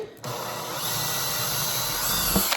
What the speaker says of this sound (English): I drill this one as well.